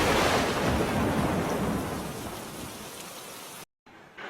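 Typhoon rain pours down hard on a guesthouse in Saipan with heavy rumbling thunder, loud and dense at first, easing slightly, then cutting out briefly before the downpour resumes.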